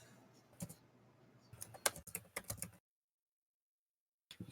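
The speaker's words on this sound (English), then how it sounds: "You guys hear me typing?" Keys clack on a computer keyboard in quick irregular bursts close to the mic, then the sound drops to complete silence before one last short flurry of taps.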